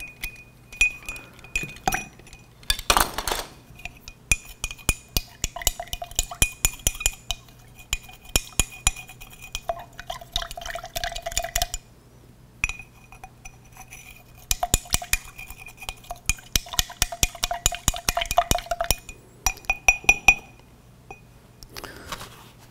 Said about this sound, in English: add it to the silicate, stir it up.